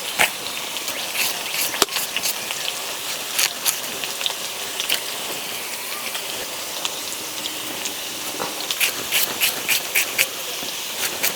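Sliced potatoes frying in hot oil for a Bengali fish curry, a steady loud sizzle with a dense spray of crackling pops throughout.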